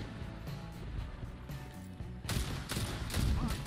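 Rapid gunfire from the Forerunner exotic weapon in the Destiny 2 video game, a quick burst of several sharp shots over busy game background sound, with the loudest cluster near the end.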